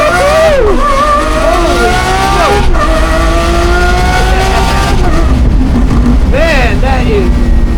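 An all-wheel drive fast car accelerates hard, its engine loud and close with rising, shifting whine through the gears, while people talk excitedly over it.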